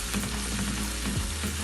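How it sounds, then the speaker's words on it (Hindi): Onions and garlic-ginger paste browning in a hot pan for fish korma, a loud, continuous close sizzle and crackle of frying with no voices. "अब हम इसमें लहसुन अदरक का पेस्ट शामिल करेंगे। दोनों को अच्छी तरह ब्राउन करेंगे।"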